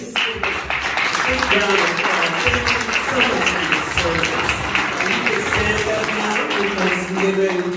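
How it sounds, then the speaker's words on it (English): Veterans are applauded at a Cobb County Republican political event: sustained crowd clapping runs throughout, partly under a loud voice and music-like tones that sit on top of the applause. "Let's just give a big round of applause."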